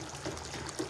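Tap water running steadily over a habanero pepper being rinsed in a kitchen, a close, continuous splashing stream lasting about a second.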